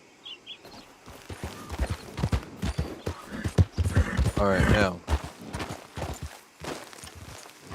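Horse hooves clip-clopping in the video game Red Dead Online, a close, steady run of hoofbeats with a whinny midway and someone talking over it.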